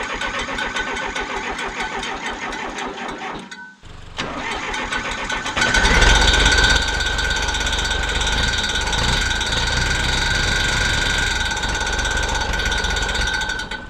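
A diesel Case 580CK backhoe engine cranks over with a rapid rhythmic churn, pauses briefly, then fires and settles into a loud, steady close idle with a bright whine, running on alone.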